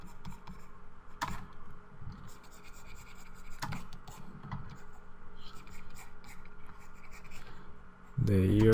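A pencil sketches hair on paper in soft, close scratching strokes, with a few sharper taps, under low background noise and brief quiet speech, ending in a louder thump.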